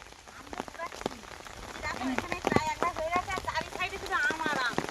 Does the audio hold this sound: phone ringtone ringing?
no